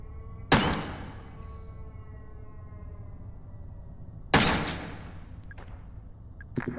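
Containers smashed open in the horror video game Crow Country, two loud crashing breaks several seconds apart, each with a scattering tail of debris, followed by a few small clinks.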